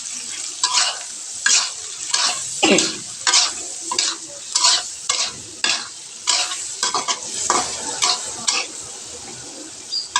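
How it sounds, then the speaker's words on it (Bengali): Tomatoes fry for a prawn curry while a spatula stirs them in a pan, giving repeated rhythmic scraping strokes and clinks over a continuous close sizzle. "চলুন টমেটোগুলো একটু কষানো হোক"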